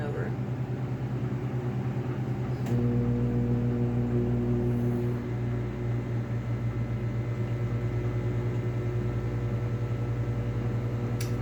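A microwave oven hums steadily while cooking macaroni in water, a constant low drone with a slight shift in tone partway through, running alone without voices.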